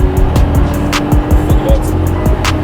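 A Mercedes CLS W219 in sport mode accelerates hard, its engine pulling through rapid rising gear sweeps, loud and close, with no talk over it.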